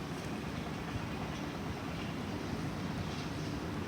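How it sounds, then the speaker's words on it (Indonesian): Faint, steady machinery drone in the distance from lake dredging, a broad washing rumble like engines working over water, continuous with no breaks. "Maaf ya kalau ada suara-suara mesin, lagi ada pengerukan danau."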